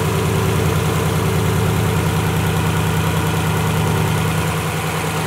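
A built big-turbo Subaru STi engine idles smoothly and steadily, a continuous close, loud rumble with an even low throb and no voices.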